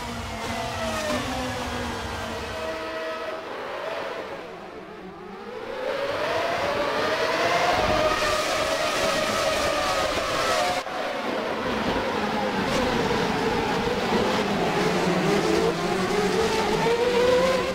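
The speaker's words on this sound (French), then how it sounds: "le mode réalise un superbe son de moteur V8 qui est utilisé dans ces GP2" RSS Formula 2 car with a V8 engine racing in Assetto Corsa at the Red Bull Ring, its engine howling loudly and continuously with rising and falling revs through gear changes.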